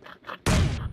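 Grenade blast in the mobile battle-royale game PUBG Mobile: a single sudden, loud, booming explosion that cuts in after a brief moment of quieter sounds and sustains with a heavy low rumble.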